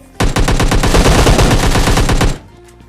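Automatic gunfire in the mobile battle royale game PUBG Mobile Lite, fired near a tunnel or cave shelter: one loud, close, rapid sustained burst of about two seconds that cuts off abruptly, with no talking.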